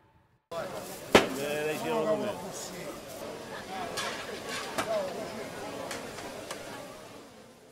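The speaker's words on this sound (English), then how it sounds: "This is the sound of a fish market" A busy fish market bustles with sharp chopping knocks, clattering and a murmur of voices, people talking and calling out over the scattered impacts throughout.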